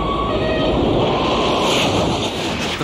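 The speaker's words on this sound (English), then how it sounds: "The world's fastest trains are designed to run on purpose-built, straight track" High-speed train running on a dedicated, purpose-built straight track, a loud continuous rushing roar with broadband rumble that holds steady throughout, no talking.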